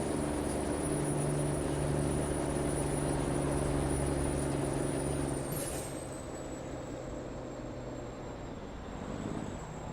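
A truck engine in Euro Truck Simulator 2 drones loudly and steadily, labouring with a low rumble and a high whine. Midway the pitch drops with a brief hiss, and it settles into a quieter hum.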